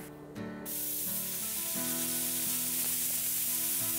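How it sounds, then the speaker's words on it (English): A steady hiss of spray paint runs continuously after a brief pause, with a low mechanical hum droning underneath. "And I'm spraying the paint."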